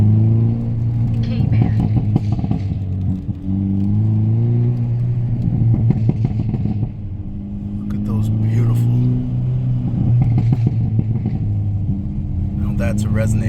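A Hyundai Elantra N with a resonator-delete exhaust, its engine rumbling nearby and revving in repeated swells that rise and fall several times, with a person talking over it.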